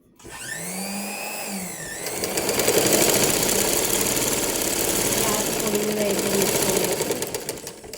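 A sewing machine stitches fabric near and loud, whirring up to a fast, steady mechanical chatter after a brief start, with a voice heard briefly at the beginning.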